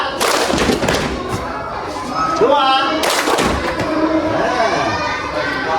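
Schoolchildren in a classroom clap in rhythmic counted groups for a counting game, loud sharp claps mixed with their chanted numbers and shouting.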